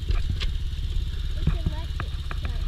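Clutchless Gio 250cc dirt bike engine chugging close by in a low, steady pulsing rhythm, with people talking over it.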